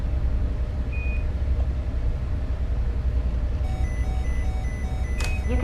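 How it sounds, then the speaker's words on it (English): Partway through, a life support master alarm in the VR space game Interkosmos 2000 starts up as a faint, repeating electronic beep pattern over a steady, loud low hum of cabin machinery. "You can press the master alarm button to disable the sound of the alarm."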